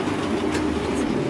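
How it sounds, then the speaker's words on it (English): A rideable miniature railway train runs along its track beside a road in Switzerland, giving a steady, continuous low rumble with faint rail noise throughout. "It's a rideable miniature railway."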